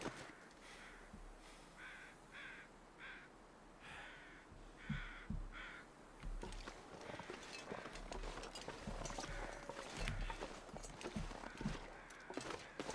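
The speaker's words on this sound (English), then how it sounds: "I hear crows." Several crow caws repeated in a loose rhythm in The Long Dark survival game, fairly faint against a quiet wind-like background, followed by scattered crunching footsteps.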